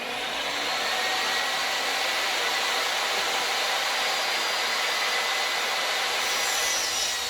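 Table saw ripping boards to straighten an edge for a DIY sliding closet door: a continuous loud whirring, rasping cut that holds steady for about seven seconds with no voices.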